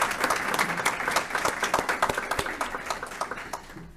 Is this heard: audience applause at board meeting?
yes